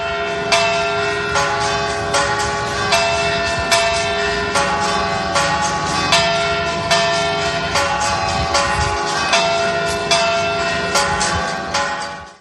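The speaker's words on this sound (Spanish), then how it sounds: "las campanas de la Catedral volverán a repicar" Valladolid cathedral bells ring out in a steady, repeating peal, bright strikes overlapping with long ringing tones throughout.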